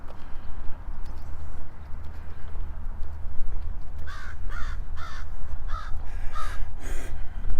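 Crows caw in a run of about six harsh calls in the second half, near and clear over steady outdoor rumble while walking around a lake.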